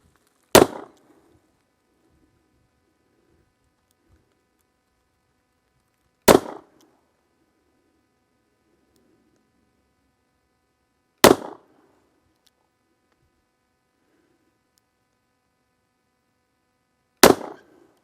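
Four sharp, loud shots from a Kimber K6s revolver with a 3-inch barrel, fired outdoors over a chronograph, spaced about five seconds apart with brief echoes and silence between.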